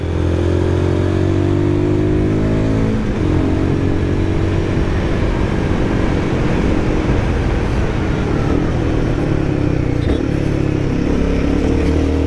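A Guerrilla 450 motorcycle on a mountain road through a built-up area rev-matches a downshift into third. The engine drones loudly and steadily, its pitch stepping up with blips near three and ten seconds, with wind rush throughout.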